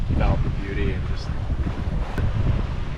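Strong wind blowing about 14 knots at sea aboard a sailboat, a loud steady rumbling buffet on the microphone with faint water wash, continuous throughout.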